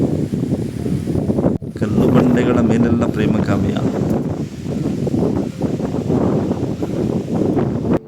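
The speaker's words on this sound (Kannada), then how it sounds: "ಗಾಳಿ ಅಷ್ಟು ಜೋರಾಗಿ ಗಾಳಿ ಬೀಸ್ತಿದೆ" Strong wind buffets the microphone in a steady roar throughout on Ramadevara Betta hill near Kanakapura, with a person talking over it.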